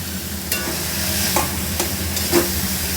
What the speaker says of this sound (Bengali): এরপরে আমি লাউ ঘন্টটা এর সাথে মিশিয়ে নেব।